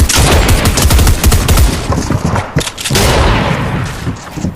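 Loud, dense gunfire in a shooter video game arena, overlapping shots and booming impacts in a sustained barrage with a brief dip midway.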